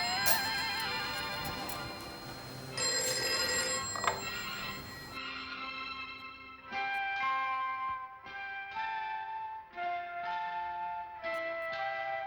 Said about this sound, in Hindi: मैं देखती हूँ किसका फ़ोन है।